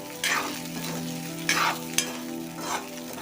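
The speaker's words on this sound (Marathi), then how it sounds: "सर्व शाबू घालायचा आणि व्यवस्थित हलवून घ्यायचं आपण गॅस मोठा ठेवलेला आहे" Sabudana (sago) is stirred in a pan over a high flame, giving a steady sizzle with recurring scraping swishes of the spoon and a small knock, close and without talk.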